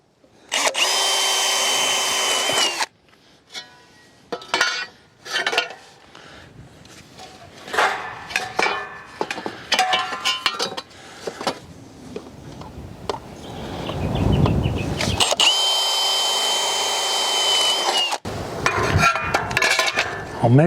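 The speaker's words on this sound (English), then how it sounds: "So just drill a 5mm hole." A power drill whirs in steady bursts drilling 5mm holes in a barn's steel frame, starting and stopping several times, with clattering handling noises and knocks between the runs.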